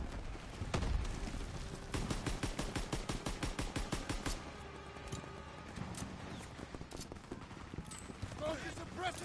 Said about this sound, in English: Focus suppressive fire!